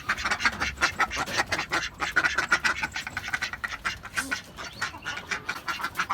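Ducks on a rooftop garden quack in rapid, close bursts, overlapping nasal calls running continuously with some scratching and rustling beneath.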